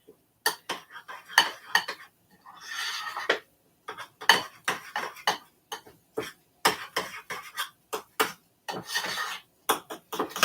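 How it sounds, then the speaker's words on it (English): Broccoli cheese muffin batter being slowly mixed in a bowl, with repeated clinks and scrapes of a utensil against the dish in an uneven rhythm, close and fairly clear. "Just gonna mix this slowly."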